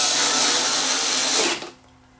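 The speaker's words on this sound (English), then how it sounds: "I'm going to finish up putting the rest of the screws in" A power drill drives screws into the back panel of a Samsung UN46F6350 television, a steady close whir running for about a second and a half before winding down and stopping.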